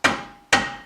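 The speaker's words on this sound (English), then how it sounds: "Use a rubber mallet." A rubber mallet strikes the rear CV shaft of an AWD Cadillac CTS twice, about half a second apart, each a sharp close thump with a short ringing decay.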